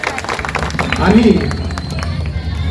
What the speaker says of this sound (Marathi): परत एकदा जोरदार त्यांच्यासाठी टाळ्या